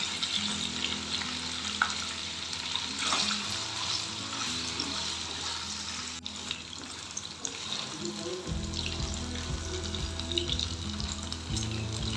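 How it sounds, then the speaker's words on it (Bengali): Paneer pieces fry in hot oil in a pan, a steady crackling sizzle that runs throughout, with a low hum underneath that grows louder toward the end. "ফার্স্টে পনিরগুলোকে ভেজে তুলে নেব"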